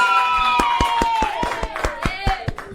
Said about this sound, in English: I even got this nice little applause